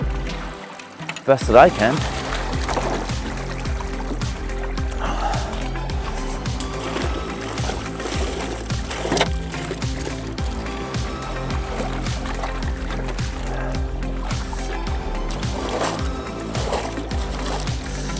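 Creek water washing over and through a gold sluice into a bucket, a steady rushing, splashing wash that runs throughout while someone talks over it.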